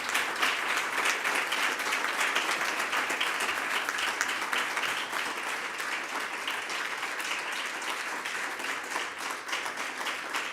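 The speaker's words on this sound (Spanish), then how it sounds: "Un aplauso para ella." Sustained, dense applause from an audience at a poetry book presentation on World Book Day, an even wash of many hands clapping throughout without pause.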